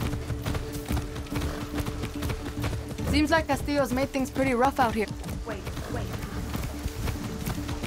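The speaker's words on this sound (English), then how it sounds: "I'm gonna stop and get this horse." In Far Cry 6, a horse's hooves clop at a quick running pace, rhythmic and fairly close, beneath someone speaking in the middle of the stretch.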